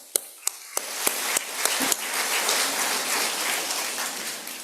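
Applause fills a graduation ceremony hall for SASTRA graduates: a few sharp isolated claps at first, then swelling into sustained, dense clapping from a large audience, with no talk over it.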